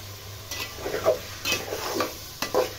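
Dried red chillies fry in oil with mango pickle, a faint low sizzle broken by a few brief stirring scrapes spaced about half a second to a second apart.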